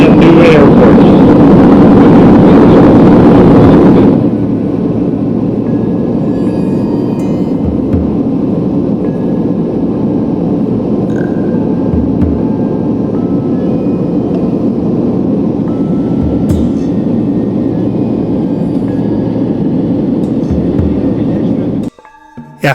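A private jet on its landing approach into Kathmandu Airport, with the wheels down: a loud roar that drops after a few seconds to a steady cabin drone, with faint knocks, and speech heard over it.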